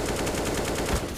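Rapid automatic gunfire from Counter-Strike on the Nuke map, a short, loud burst of closely spaced shots fired by a player on a ladder.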